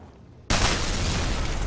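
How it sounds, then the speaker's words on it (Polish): Explosions in The Royal Marines Commando video game burst in loud and close after half a second of near silence, then a dense, sustained roar of blasts and rumbling debris fills the rest of the moment with no talk. "Ło, te wybuchy."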